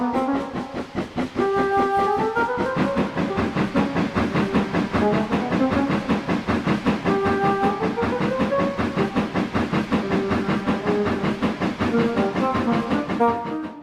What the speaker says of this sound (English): judging from the sound, there must have been close to 30 trucks on that train